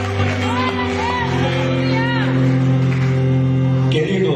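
A church congregation cheers and shouts praise together, voices blending into a loud, steady crowd roar over a sustained musical drone, with a few whoops rising above the mass.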